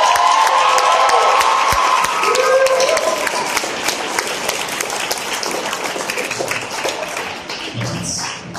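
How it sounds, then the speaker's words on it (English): An audience claps at an 8th grade graduation ceremony, a dense sustained round of applause with some cheering and shouts early on, gradually thinning toward the end. "Can we clap again, please, for Michelle?"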